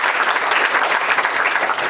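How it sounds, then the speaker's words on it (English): Conference audience at BSidesAugusta 2014 breaks into brisk, dense applause, a full wash of clapping close at hand throughout. "So, a round of applause for Gary."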